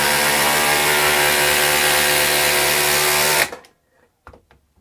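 A DeWALT DCF870 hydraulic impact driver running at full speed, a loud steady mechanical whine and hum for over three seconds that cuts off abruptly, followed by a few faint knocks.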